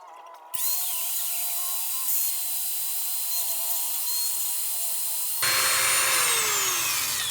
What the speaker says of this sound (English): I'll go ahead and polish the back window while I'm at it